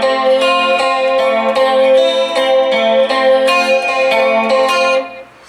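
An electric guitar with chorus and light distortion effects picks a slow, steady arpeggio pattern, with each note ringing clearly and overlapping into the next before it stops abruptly.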